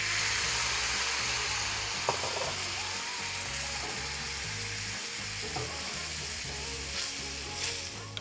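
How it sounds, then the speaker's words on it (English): White wine hisses and sizzles steadily over breadcrumbs, garlic and olive oil in a hot pan, a loud, continuous frying crackle up close with occasional stirring scrapes. "Now what we're gonna do is just rehydrate it with a little bit of white wine."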